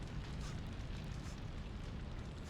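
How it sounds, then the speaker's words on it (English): A fire roars in the game Shadows of Destiny as a dense, even crackling rumble, faint overall and continuous throughout with no voices. "Fire's too great."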